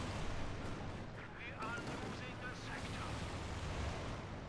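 Strafing run by an IL-2 Sturmovik in the Company of Heroes 2 battlefield, a dense rumble of cannon and machine-gun fire with explosions, continuous and loud, with commentary over it.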